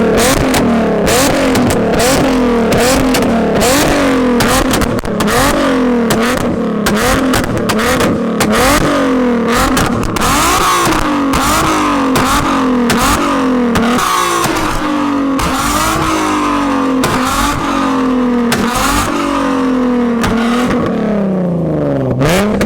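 Nissan 370Z with an extremely loud modified exhaust, heard from outside, revving over and over in rapid rising and falling surges, very close and roaring throughout with no pause.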